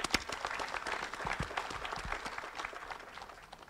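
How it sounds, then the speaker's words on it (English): Mourners at a funeral service break into sustained applause, a crowd of hands clapping steadily and moderately loud before tapering off slightly at the end. "Please give him a clap."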